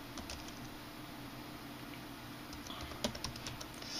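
Quick bursts of keystrokes on a computer keyboard as a file path is entered, soft close clicks in an uneven rhythm with a few sharper taps near the end, over faint background hiss.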